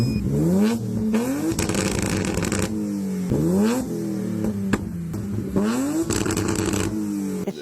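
BMW M20 engine revved hard several times in quick succession, each rise sweeping up to the rev limiter before dropping back, loud and close with no talking.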